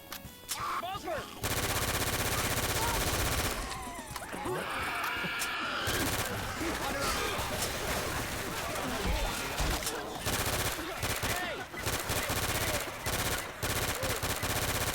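Dense automatic gunfire from a PC zombie shooter game rattles in long, loud sustained bursts with brief gaps, while voices talk over the shooting.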